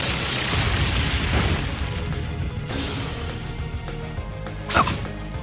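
Brionac energy cannon blast from Trails of Cold Steel 3, a dense, roaring wall of sound sustained through the clip, with a sharp bright burst near the end over an underlying game score.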